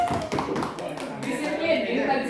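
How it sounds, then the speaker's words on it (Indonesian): Applause from a group of participants at an Indonesian teacher training session on positive discipline culture: a short burst of fairly close, brisk clapping that thins out, with voices talking over it. "Oke, tepuk tangan untuk kita semua."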